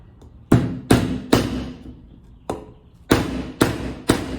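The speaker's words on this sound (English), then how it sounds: "And I'll show you the difference in nailing with a common nail. 16 ounce hammer." A 16 ounce hammer drives a common nail with seven sharp, loud strikes in an uneven rhythm, separated by short quiet gaps.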